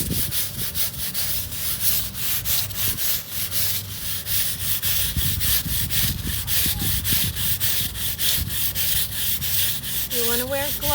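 Patio pavers are scrubbed with bleach to remove mold, giving a close, loud, rhythmic scratching of stiff bristles rubbing back and forth against stone, with regular strokes repeating steadily throughout.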